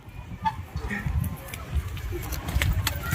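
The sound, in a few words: pigeons cooing at a pigeon sale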